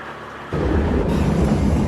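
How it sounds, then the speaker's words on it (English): A sudden loud, rumbling roar of thunder bursts in and rolls on, deep and close, with a hissing wash like heavy rain. "This storm will not abate us."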